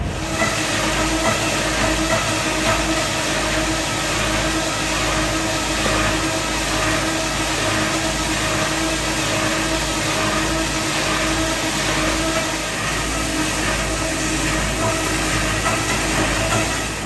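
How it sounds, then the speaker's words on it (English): Sawmill cutting logs for custom log cabin kits, a loud, steady, dense mechanical roar with rumbling machinery that runs continuously and close by, with no voices over it. "This here is one of his sawmills."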